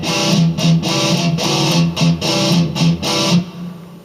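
An electric guitar plays a riff with distorted, palm-muted power chords in a chugging, stop-start rhythm, close and loud with no voice.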